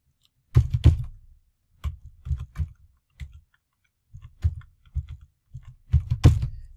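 Code typed on a computer keyboard, bursts of close, crisp key clicks arriving in short irregular clusters with brief pauses between, no voice over them.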